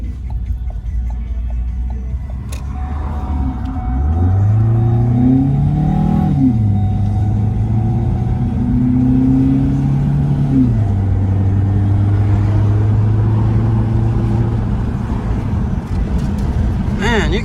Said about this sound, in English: Man, you can hear that intake just sucking air.